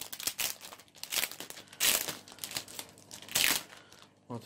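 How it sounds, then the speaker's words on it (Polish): Plastic packaging around a new keyboard crinkles and crackles as it is opened, in close, loud bursts of rustling with short pauses between handlings. "Teraz tak, otwórzmy tą klawiaturę."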